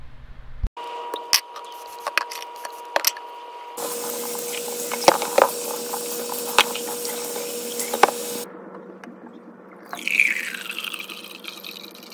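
Water runs from a tap as a heated USB mug is washed, with a steady hiss broken by sharp clinks and knocks of the mug against the sink, then a brief splashy burst near the end.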